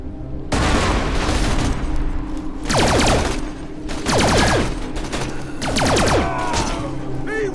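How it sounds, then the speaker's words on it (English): Grenade blasts and rapid gunfire from the video game Borderlands: The Pre-Sequel: dense bursts of automatic fire with repeated booming explosions and descending whooshing effects, loud and continuous throughout, with no one speaking. "I usually wake these guys up with a grenade"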